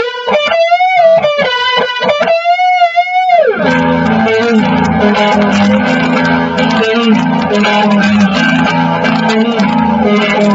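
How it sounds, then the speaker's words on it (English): An Earl Slick SL57 Strat-style electric guitar with Alnico pickups and a rosewood fingerboard plays clean single-coil notes, first bright bent lead phrases, then a ringing strummed chord pattern that sustains, loud and up close. "So that's the traditional Strat sound right there."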